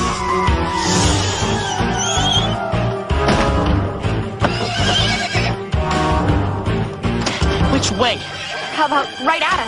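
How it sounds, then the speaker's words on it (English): Miniature seeing-eye horse neighs amid busy, dense sound, with people talking over it and a loud mixed background throughout. "A miniature seeing eye horse."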